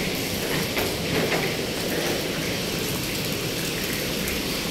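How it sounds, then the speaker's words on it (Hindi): Steady rain falls outside a hotel in Lahore, a continuous broadband hiss with dense patter that holds at an even level throughout, with no voices. "बाहर तो बारिश है"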